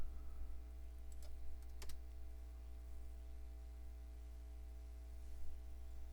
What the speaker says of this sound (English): Now when you're ready, just hit enter.